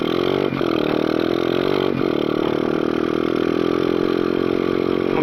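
A 125cc dirt bike engine runs steadily, a buzzy mid-pitched drone that stays loud and close with slight fluctuations, no talking.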